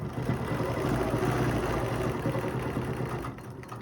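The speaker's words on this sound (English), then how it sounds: "I'm going to stitch up that indentation." A quilting sewing machine stitches a straight quilting line, giving a steady, rapid mechanical hum with a fine repeating needle rhythm that runs continuously and close by.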